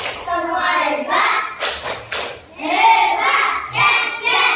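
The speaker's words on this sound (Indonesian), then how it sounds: "Beri tepuk hebat untuk kita semua." A class of fourth-grade children and their teacher doing a rhythmic group clap, bursts of hand claps and thumps mixed with children's voices chanting, loud and close.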